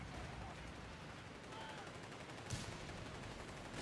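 Machine gun fire in the strategy game Company of Heroes 3, a steady dense rattle of rapid shots under a loud busy battle mix, with one sharper burst near the end.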